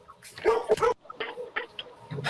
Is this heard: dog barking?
yes